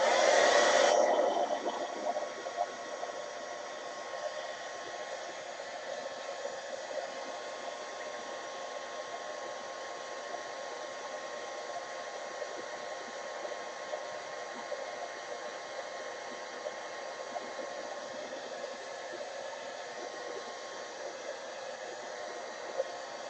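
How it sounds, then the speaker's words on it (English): A heat gun blows over wet gesso to dry it, a steady loud whooshing hiss that starts with a brief louder burst and then runs continuously for over twenty seconds without talk. "So heat gun."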